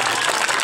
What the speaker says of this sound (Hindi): बनाओ ताली अपने गांव के नाम पर